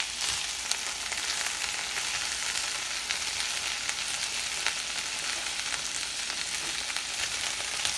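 Okra for smothered okra with shrimp fries in a skillet on high heat, giving a steady, dense sizzle and crackle that holds evenly throughout with no one speaking.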